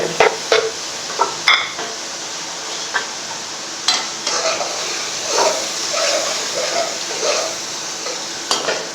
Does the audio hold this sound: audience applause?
no